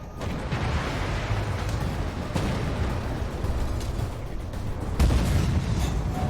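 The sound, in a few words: tank cannon fire in the Armored Warfare video game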